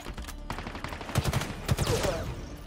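Gunshots in Halo Infinite, a few sharp reports and short rapid bursts over a low background hum, fairly faint and spread across a couple of seconds.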